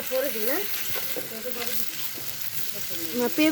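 Meat frying with spices in a pan, giving a continuous close sizzle with occasional stirring scrapes, while faint tonal sounds drift through in the background.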